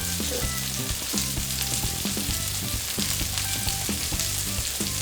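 Butter sizzles steadily on a hot pan, toasting the insides of burger buns, a close, loud, even frying hiss with small crackles throughout.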